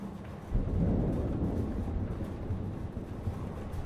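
Low, steady rumble of a thunderstorm with rain in Life Is Strange, swelling at the start and then rolling on as a continuous dull roar, with no voices.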